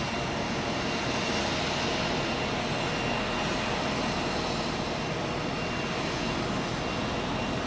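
Airliner landing on runway 14 at Zurich Airport, a steady broadband jet roar held at constant loudness throughout with a faint high whine on top, no voices.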